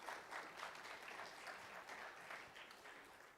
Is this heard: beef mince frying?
no